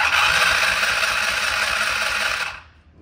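A Polaris RZR 170 with its carburetor off and throttle open is cranked over, producing a loud, steady mechanical whir and rattle for a few seconds before it cuts off abruptly, with no sign of firing.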